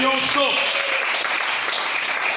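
Church congregation clapping in praise of the Lord, a dense, sustained applause filling the room, with a voice speaking briefly at the start.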